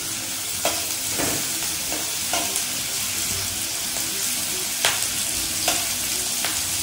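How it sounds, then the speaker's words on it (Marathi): Onions fry in oil in a pan for Chinese noodles, a steady close sizzle with several sharp stirring scrapes and clatters of the spoon against the pan. "आणि इथं कांदा मस्तपैकी थोडा लाल होऊन द्यायचा आहे, तोपर्यंत याला मस्त आपण तेलामध्ये फ्राय करून घेऊया."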